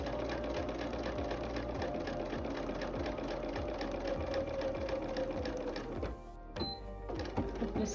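Sewing machine stitching a quilt block, a rapid even mechanical chatter of needle strokes held for several seconds, then a short pause and a few slower stitches; close and steady, no talk.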